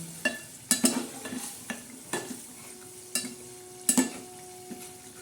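A spoon stirs Surmai fish masala, made with green chillies, coriander, garlic and stone-ground coconut, in a pan. Irregular scraping and clinking strokes ring against the metal over a soft simmering sizzle, close by with no voices.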